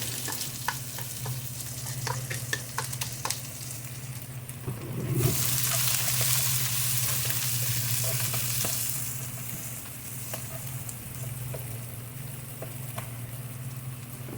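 Chopped onions sizzle steadily in a pan for a chicken feet and potato dish, a continuous close frying hiss with scattered utensil taps and a louder surge of sizzle midway.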